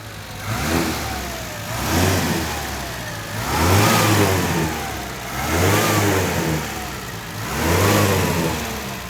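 A Dodge 1500 serie W car engine revs in four steady cycles, each swell rising and falling back, close and loud with no talk.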